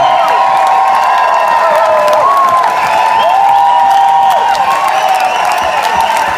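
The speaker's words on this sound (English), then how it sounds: "you're going to have to cheer louder for them" Loud concert audience at a show in Derry, cheering, whooping and applauding together in a dense, sustained roar with high shouts rising above steady clapping.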